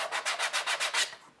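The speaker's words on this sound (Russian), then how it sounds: "продолжаем чистовой шлифовкой" Finish sanding the cut edge of a formed leather knife sheath made for a Fallkniven knife, using a handheld sanding tool; about seven even rubbing strokes in steady rhythm, close and fairly loud, then the sound trails off.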